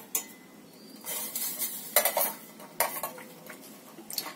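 Homemade natural lip balm mixture being stirred in a pot as it thickens, with repeated scraping clinks of a spoon against metal in uneven strokes over faint sizzling, close and clear, with no voices.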